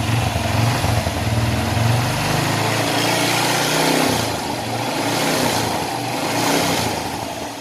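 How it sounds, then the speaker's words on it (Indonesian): A Honda Blade motorcycle engine, freshly rebuilt, runs steadily with light throttle, a dense close-up drone with a low rumble easing slightly after a few seconds and gentle swells of revving. "di sini untuk pada mesin motornya sudah dalam keadaan hidup"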